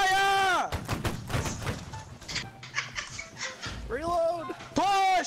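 Muskets volleying in the line-battle game Holdfast, with a ragged crackle of shots in the middle and a few later reports amid shouting soldiers and battlefield clamour, framed by horn-like tones at the start and end.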